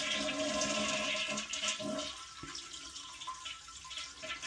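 A toilet tank is flushed and drained, water rushing loudly out for about two seconds, then fading into quieter trickling and gurgling as it empties.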